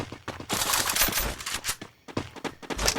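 Gunfire from the mobile battle game Free Fire: dense, continuous bursts of rapid shots fill most of the stretch, with a short lull before a final volley.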